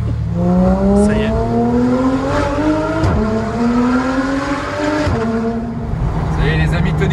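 A Porsche GT3 RS with an IPE exhaust accelerates hard inside a tunnel, its loud, echoing engine note climbing steadily in pitch with a couple of quick gear changes along the way.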